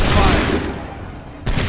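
A musket volley in an Assassin's Creed 3 battle bursts out loud at once and decays into a rumbling tail, then a second sharp crack of gunfire hits right at the end.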